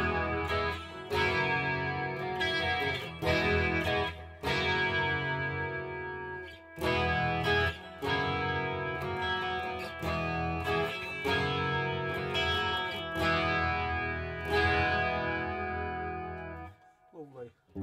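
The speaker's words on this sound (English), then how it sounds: "Let's sort of get a wee bit of a smoother, flangier sound." Electric guitar played through a Boss Waza Craft CE-2w chorus pedal set for a smoother, flanger-like sweep, with strummed chords and single notes ringing out loud and close, swirling and shimmering, before the final chord fades.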